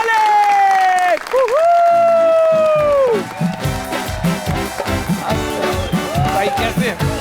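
A studio audience on a television talk show breaks into loud applause as cricketer Shoaib Malik comes on, following a swell of show music, with clapping dense and sustained through the second half.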